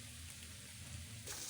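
Ginger garlic paste sizzling in hot oil in a pan, with a steady, faint hiss and crackle and a slight lift in the frying near the end.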